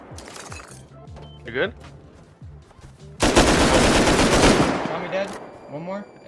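Light machine gun fire in the survival game Rust erupts mid-clip as a loud, dense burst of rapid shots that keeps going for a couple of seconds, with excited voices shouting before and after.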